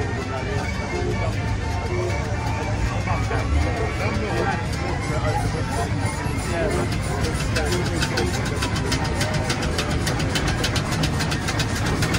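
A steady steam traction engine, a Fowler, chugs and rumbles throughout at a steam rally in Whitby, with a continuous mechanical beat and people talking over it.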